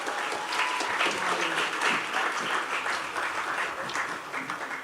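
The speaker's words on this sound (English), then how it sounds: "Deserving of a bigger round of applause, ladies and gentlemen." Steady, dense applause from an audience at a secondary school graduation ceremony fills the space, a continuous wash of clapping that holds evenly and then tapers slightly toward the end.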